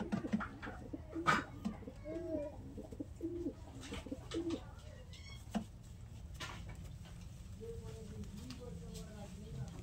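Laldom pigeons give soft, scattered coos close by in a loft while someone talks over them, with light rustling and small knocks mixed in.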